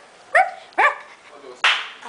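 A dog gives three sharp, close barks spaced apart, with the last one harsher and more breathy, in an otherwise quiet indoor space.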